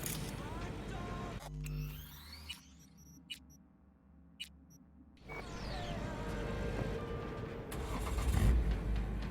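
Car in a video game starting up and pulling away: engine cranks and catches with a few clicks, goes briefly quiet, then revs and accelerates into a rising roar.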